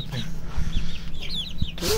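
Chickens cluck softly in short, scattered calls close by, with a brief louder squawk near the end.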